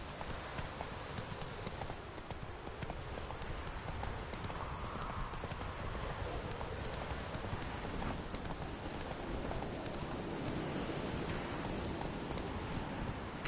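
Roach the horse trots through rain in The Witcher 3 video game, brisk hoofbeats clopping in an even rhythm under a continuous hiss of falling rain, near and unbroken.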